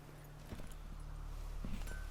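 A horse's hooves clopping at a walk in the Witcher 3 video game, a few soft irregular thuds over steady low game ambience, moderately close and fairly quiet.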